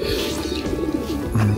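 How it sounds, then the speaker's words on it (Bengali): Pigeons in Goodmayes Park give soft, low throaty coos, a couple of short rolling calls close by, with faint background sounds and no talking. "কবুতর ডাকতেছে"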